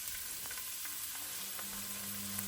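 Green onions frying in two spoonfuls of olive oil make a steady, moderate sizzle with faint crackles throughout, and no voices are heard.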